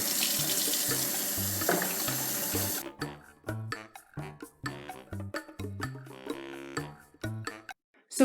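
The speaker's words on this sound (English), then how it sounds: "So first you're going to wash off your berries to make sure if they're fresh berries, make sure you wash them off." Fresh strawberries are rinsed under a running kitchen tap: a loud continuous gush of water gives way to choppy splashes and bursts as the flow is interrupted. Several soft knocks of berries or a bowl break up the pattern.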